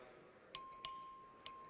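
A clerk rings the bell in a state House chamber to open a record vote on House Bill 195: three bright, ringing strikes, two close together and a third after a short pause, each decaying over a quiet room hum.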